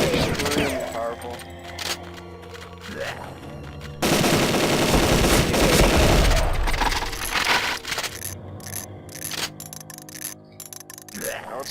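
Shotgun blasts in the game Deadly 30, heard as loud, close booming shots amid busy game effects and music, with one long heavy burst in the middle and lighter clatter around it.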